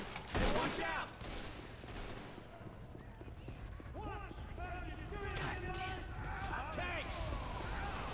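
Gunfire in Left 4 Dead 2 as players shoot at the Tank, with a loud burst at the start followed by continuous rattling shots and game noise under overlapping player voices.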